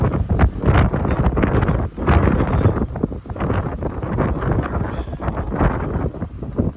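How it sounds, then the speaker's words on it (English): Strong breeze buffets the microphone on the jogging track of the cruise ship Oasis of the Seas, a loud continuous rushing roar with gusty swells and no speech. "The breeze is really picking up now again as we come around what would be turn number 3 in an auto race."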